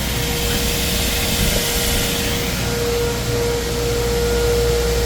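A small electric fan from a fan assembly runs steadily, giving a broadband whooshing airflow with a faint constant motor hum, close and continuous, with no speech.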